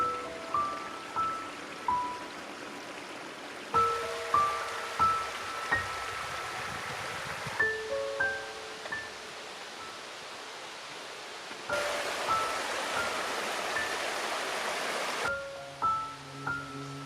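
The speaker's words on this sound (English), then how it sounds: "The creek's gentle melody creates a sense of serenity." A creek flows through a hushed forest on a hike toward old lime kilns, giving a steady broadband wash of running water. Birdsong chirps in short phrases over it.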